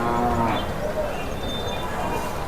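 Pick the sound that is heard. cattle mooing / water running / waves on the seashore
cattle mooing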